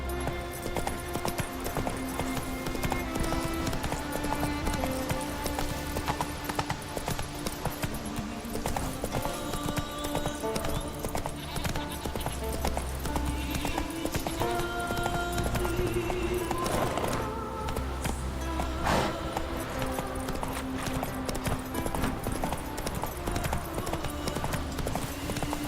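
Roach the horse gallops in Witcher 3, with rapid continuous hoofbeats clip-clopping at a steady pace under game music, loud and close throughout.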